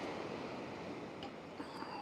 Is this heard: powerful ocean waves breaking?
yes